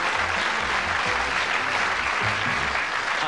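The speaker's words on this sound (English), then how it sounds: "Give them a round of applause as we go off." Studio audience on the Bullseye game show clapping as a segment ends, a thick continuous burst of applause with some low background murmur beneath it, steady and fairly loud throughout.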